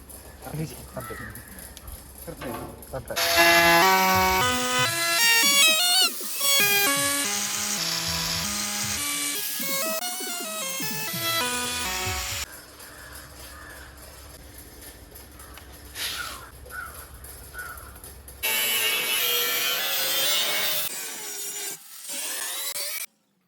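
Power saw cutting wood pieces for a handmade barrel chair, loud rising and falling whine as blades bite through several cuts, with a voice speaking between and over the cutting.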